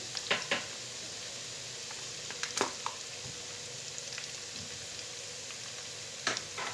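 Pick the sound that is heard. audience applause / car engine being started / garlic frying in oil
garlic frying in oil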